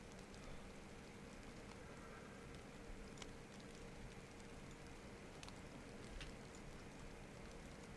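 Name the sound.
rain falling in the DayZ video game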